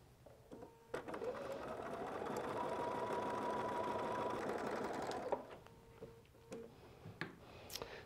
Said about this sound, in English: So we're just going to sew about 1/8 inch inside that fold.